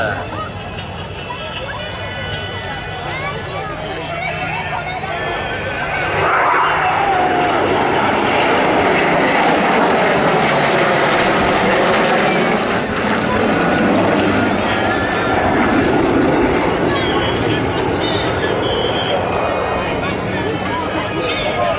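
A Rafale, Corsair and Spitfire fly in formation at an air show in Cambrai, their engines roaring loudly and swelling as they pass, with a commentator's voice and crowd noise underneath.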